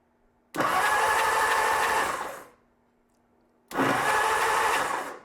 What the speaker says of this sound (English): I'm going to turn on the ignition, give it a spin, see if we have spark.